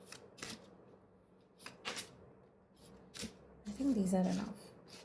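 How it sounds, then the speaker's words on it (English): Tarot cards are shuffled in short bursts of riffling and rubbing, separated by pauses, with a person speaking quietly in between. "I will be shuffling the cards."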